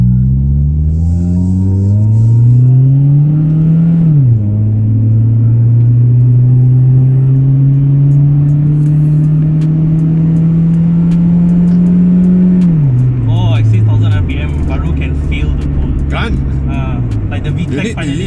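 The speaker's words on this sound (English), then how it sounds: "Okay, I'm gonna try to accelerate here." A 1994 Honda Integra ZXi (DB6) revs hard under full throttle. The engine note climbs steadily with a shift-like dip partway through, loud and close from inside the cabin, with occasional talk over it.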